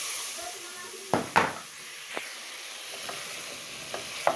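Tomato and bell pepper hitting a hot pan, with a steady close sizzle and a few sharp clinks and scrapes from stirring.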